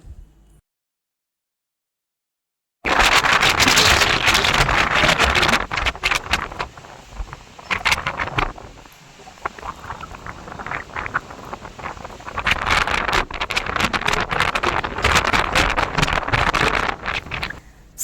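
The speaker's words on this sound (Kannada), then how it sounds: "ಅದರಲ್ಲೂ ನಾವು ಮೇಲ್ಗಡೆ ಇದ್ದೀವಲ್ವಾ ಸಿಕ್ಕಾಪಟ್ಟೆ ಗಾಳಿ ಕಣ್ರಿ" Strong wind buffets a rooftop, roaring and gusting loudly against the microphone in uneven surges after a brief silence, easing slightly midway before picking up again.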